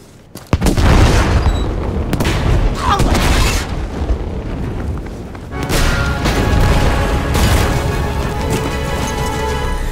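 A heavy bomb blast booms loudly in the Battlefield V campaign, followed by a long rumbling roar and the crackle of debris and scattered gunfire.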